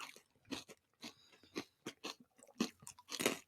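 Crunchy pretzel pieces are chewed close up, with irregular crisp crunches repeating steadily in a quiet room and no talking.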